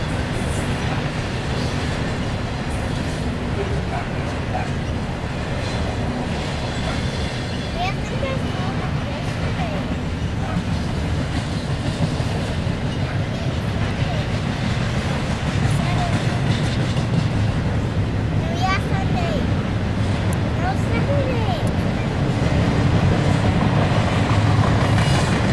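BNSF intermodal freight train carrying containers and trailers rolls past for a long stretch. Its steady heavy rumble and clattering wheels are loud and continuous, with occasional faint squeals, while people talk quietly over it.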